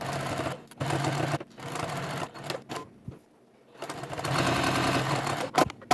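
A semi-industrial sewing machine runs in steady bursts of rapid mechanical stitching on a backpack, pausing briefly mid-way before resuming at a constant, close, loud hum.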